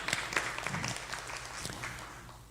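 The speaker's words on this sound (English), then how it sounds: "A special applause for Margaret Masibo." A conference audience at a regional learning meeting on care reform claps briefly and lightly. The applause is quiet and sparse, with a few sharper claps early on before it settles and thins out.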